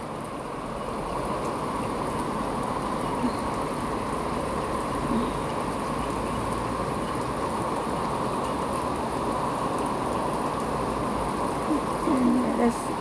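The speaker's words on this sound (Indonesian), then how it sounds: "sekarang hujan deras" Heavy rain pours down in Hong Kong as a dense, steady hiss that holds evenly throughout, with a few faint voices nearby.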